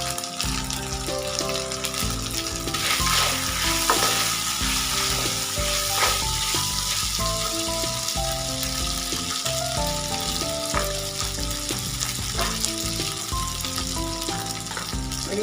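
Chopped ginger and ground black pepper frying in a pan for a pasta sauce, a continuous close crackling sizzle with stirring scrapes and clinks running throughout at steady loudness.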